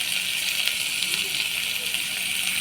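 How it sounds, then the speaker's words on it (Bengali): Potatoes with salt fry in hot mustard oil, giving a steady, bright, close sizzling hiss with faint crackles throughout. "সরষের তেলটা গরম হয়ে গেছে, এবার আলুগুলো ছকে নেব"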